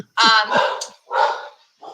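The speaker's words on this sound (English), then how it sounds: "Sorry about the dogs, somebody's at the front door apparently." Dogs barking at someone at the front door, three loud close barks in quick succession with short gaps, nearly alone with no talk over them.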